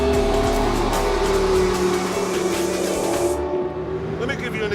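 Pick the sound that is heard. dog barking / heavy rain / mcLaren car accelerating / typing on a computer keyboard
mcLaren car accelerating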